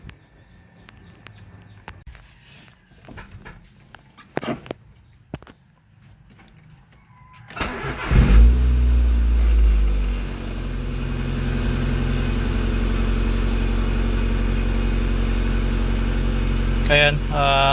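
A Honda Civic with high RPM and coolant loss cranks over and catches after some quiet handling noises, then settles into a loud, steady idle that runs without a break to the end.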